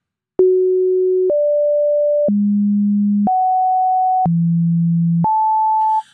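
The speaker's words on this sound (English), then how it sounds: "So what's happening there is that that sample and hold is sampling the sine wave at the 1 second interval" A synthesizer's sample-and-hold stepping a sine wave once per second, giving a steady run of six sustained pure tones that jump between low and higher pitches with a click at each change, loud and alone.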